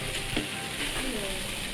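Okonomiyaki batter sizzles steadily on a hot griddle, a close, continuous crackle of frying with faint stirring.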